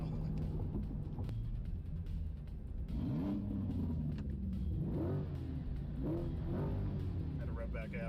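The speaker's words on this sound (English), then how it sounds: "Had to rev back at him." Car engine in a video game revving repeatedly in rising, falling sweeps, loud and close, with a steady motor rumble underneath and a person talking over it.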